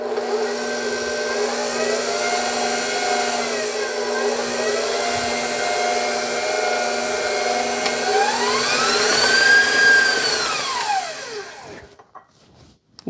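An electric mixer whips milk into a white chocolate mousse, its motor whine starting slowly, holding steady, then rising sharply in pitch as it speeds up before cutting off near the end.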